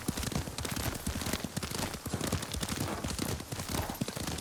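Horse hooves pounding steadily at a brisk gallop while riding in the samurai game Ghost of Tsushima, dense rhythmic thuds, close and fairly even throughout.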